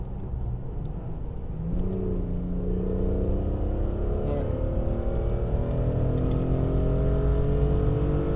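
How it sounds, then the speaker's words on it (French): Steady engine drone from inside the cabin of a 1997 BMW M3 E36 3.2-litre with SMG gearbox, the pitch rising smoothly as it accelerates, with no wind noise and no talking. "Si je me tais, franchement, on entend le moteur, on n'entend pas le vent de l'extérieur."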